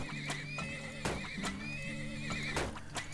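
Horses neigh and whinny repeatedly in the video game Turmoil, with several wavering calls overlapping sharp clip-clop hoof knocks, loud and close against a steady game hum.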